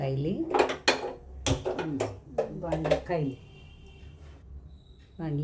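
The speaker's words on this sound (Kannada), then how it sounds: "ಬಾಣಲಿ ಇಟ್ಟೆ" A frying pan, a kadai, is set down on a home kitchen stove with a few close metallic clanks, mixed in with a person talking.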